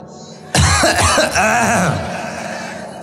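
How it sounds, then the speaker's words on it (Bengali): A crowd at a religious sermon gathering coughs together on cue, a sudden loud burst of many overlapping coughs and throat clearing that lingers for a couple of seconds before tapering off. "এটা কাশি দেন।"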